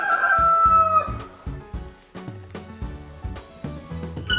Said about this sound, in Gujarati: હેનને ગુજરાતીમાં કહીશું મરઘી